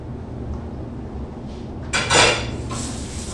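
A halibut fillet is laid skin side down into a hot pan, giving a brief clatter of the pan followed by a soft rising sizzle that fades to a low hiss, close up.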